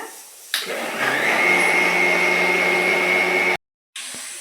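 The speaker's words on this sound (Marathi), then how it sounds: "तर मी ना आता मिक्सरला फिरून घेते मी" A mixer grinder churning cream for homemade butter starts with a jolt and runs loud and steady with a high whine, cuts out briefly near the end, then resumes.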